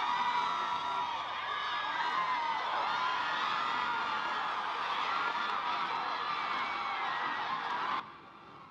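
A hometown crowd in Chesapeake cheers an Olympic 110-meter hurdles win with sustained loud whoops, shouts and screams, dense and steady for about eight seconds before dropping away abruptly.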